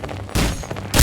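Loud gunshots ring out in the Skinwalker video game: two sharp, heavy blasts about half a second apart, each with a brief booming tail, close and with no talking.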